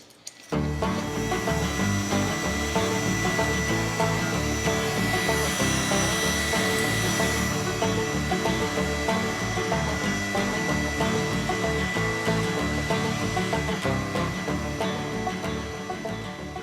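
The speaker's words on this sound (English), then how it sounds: "So I'll get the shop vac and vacuum all this grass out of here." A shop vac vacuuming grass out of a machine starts abruptly and runs loud and close as a steady whining roar with a constant hum, continuing alone without talk for the rest of the stretch.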